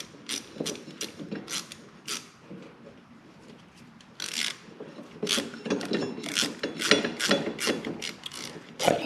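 A hand ratchet clicks in quick bursts, tightening a bolt on the front brake of a Can-Am Spyder in a warm garage, the rapid mechanical ticks close and fairly loud with short pauses between strokes.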